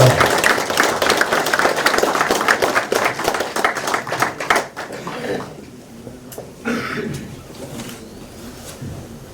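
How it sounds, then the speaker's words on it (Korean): Townspeople at a township chief's retirement ceremony clap in encouragement, with dense applause for about four seconds that thins into scattered claps and then fades into quiet room sound with a few stray knocks. "격려의 박수 부탁드리겠습니다."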